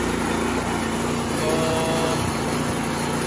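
Small petrol snow blower engine running steadily in a loud, constant drone with a buzzing mechanical edge, close by and uninterrupted, with no voices.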